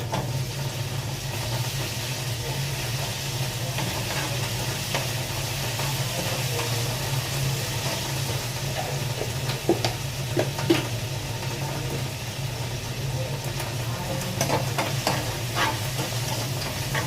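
Palak (spinach) dish being stirred and mixed in a pan, with a steady low sizzling hiss throughout and occasional soft scrapes and clinks of a utensil against the pan, no talking.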